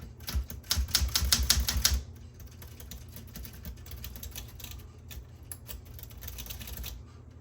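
A mechanical typewriter's levers and hammers strike in a rapid burst of clacks at first, then keep going as sparser, quieter taps and clicks, close and without speech.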